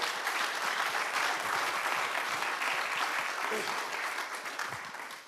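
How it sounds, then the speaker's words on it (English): Audience applause at a commission meeting honoring award winners, a steady round of clapping from a roomful of people that gradually tapers toward the end. "Give them all a round of applause, too."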